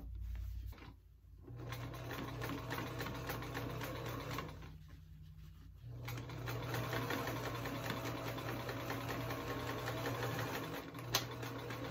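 Sewing machine stitching a small tag onto a child's pair of shorts, running in steady rapid bursts with a couple of short pauses, close and fairly loud with no talking.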